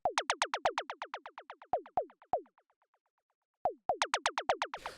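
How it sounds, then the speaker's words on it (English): Short synthesized zaps built in Ableton Operator for chill minimal house, a rapid string of downward-pitched blips in quick bursts that thin out into fading echoes before another fast run starts, alone with no talk. "So the next thing I have here are these little zap sounds,"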